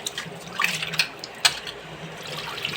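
Water splashes and pours into a bowl of fish being washed with salt, a close, steady sloshing with a few louder gushes and drips and no talking.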